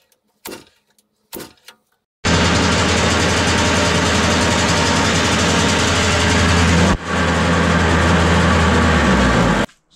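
A homemade two-stroke engine on a junk trike, newly welded, starts after a few short attempts and runs loudly and steadily at close range, dipping briefly once before cutting off.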